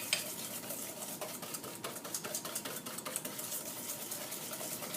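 Whisking eggs by hand in a bowl for a crème brûlée custard, a quick steady run of light metallic taps and scrapes, close and moderately loud, with no voices.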